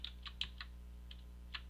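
Light, scattered keystrokes tap on a computer keyboard, a handful of quiet clicks at uneven intervals over a steady low hum.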